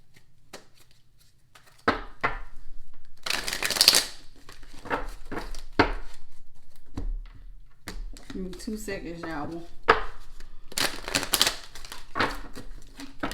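Tarot cards being shuffled up close, with irregular snapping riffles and soft slaps scattered across the passage, mixed with someone talking.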